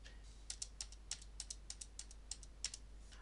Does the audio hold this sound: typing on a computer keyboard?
yes